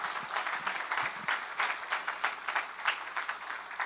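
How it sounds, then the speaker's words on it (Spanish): A church congregation gives a round of applause as an offering to the Lord, an even patter of many hands clapping in a hall, moderately loud and steady for a few seconds. "Y le damos una ofrenda de palmas a nuestro Señor"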